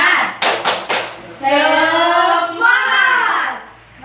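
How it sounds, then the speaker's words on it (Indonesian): Fourth-grade pupils in a classroom clap several quick rhythmic claps together, then loud shouting and chanting of a group cheer rings out over the claps. "Tepuk semangat."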